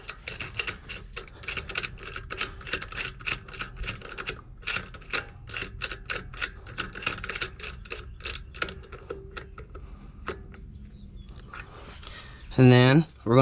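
A wheel lug nut being tightened during a tire change, rapid ratchet clicks in close bursts that pause briefly and resume, ending with a short voice.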